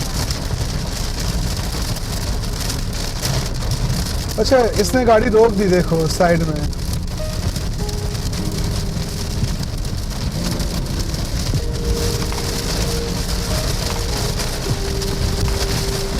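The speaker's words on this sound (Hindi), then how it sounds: "अभी हम बिल्कुल थंडरस्टॉर्म के बीच में हैं। हमारे ऊपर आ गया है, बारिश भी शुरू हो गई है हल्की हल्की।" Rain drums steadily on a car during a thunderstorm on the road from Bodhgaya to Varanasi, a constant dense hiss while a person speaks briefly partway through.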